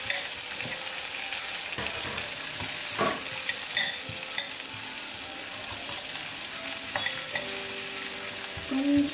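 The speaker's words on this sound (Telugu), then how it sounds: "తొందరగా ఆనియన్స్ ఫ్రై అవుతాయి." Onions frying in a pan for an Andhra-style chicken kheema dish, sizzling steadily with scattered scrapes and clinks of stirring throughout. Close and fairly loud, with no talk.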